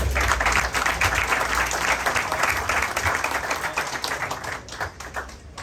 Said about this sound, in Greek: Ένα χειροκρότημα και πάλι.